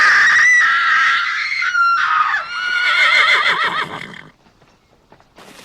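A voice imitates a horse's whinny, a loud, high, wavering call that trails off into breathy fluttering, followed by quiet.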